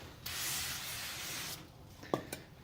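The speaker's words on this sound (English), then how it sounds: "you're gonna have to get some brake cleaner and clean all that oil off before you install" Brake cleaner hisses from an aerosol can onto new front brake rotors for a Subaru Legacy GT, one steady spray of over a second, then a quiet pause and a couple of short knocks and bursts.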